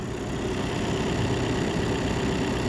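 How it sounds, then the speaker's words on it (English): A Ford Tourneo Connect's diesel engine idles steadily under an open bonnet, a constant moderate rumble with a faint high whine on top. "that's diesel engine"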